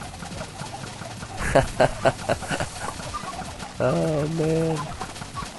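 Chickens in the Minecraft video game make cooing, clucking calls. There are a few short bursts, then a longer sustained call, with someone speaking briefly in the clip.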